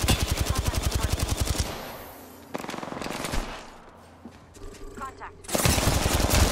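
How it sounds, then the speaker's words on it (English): Rapid automatic gunfire from the video game Apex Legends rattles in loud, close bursts, first a long volley, then a shorter one, and a final spray, with quieter game sounds between them. "I'm taking a shot."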